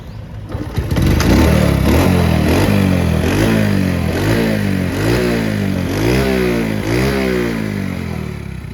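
A Honda Dream 100 motorcycle engine starts and runs loudly up close, its throttle blipped in repeated revs that rise and fall in a steady pulsing rhythm.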